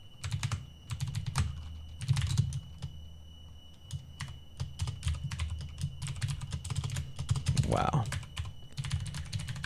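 Rapid typing on a computer keyboard, close and moderately loud, coming in irregular bursts of clicks with short pauses, under a brief spoken word and low background hum.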